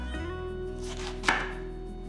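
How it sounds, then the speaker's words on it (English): A knife chops cabbage into chunks of two to three inches, a single sharp thud over a steady low background hum with no voices. "Then cut it up into about 2 to 3 inch pieces."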